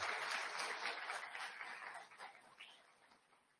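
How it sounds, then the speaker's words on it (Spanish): An audience at a legal conference applauds. The clapping is dense and sustained, starts full, then gradually thins and fades, with no voices over it. "Por favor, un aplauso para ellas."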